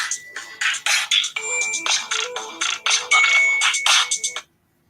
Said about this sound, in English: Hold on, I got a phone call.